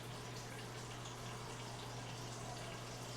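Water runs from a kitchen tap into a measuring cup for making buttermilk. The flow is a faint, steady trickle alongside a low constant hum.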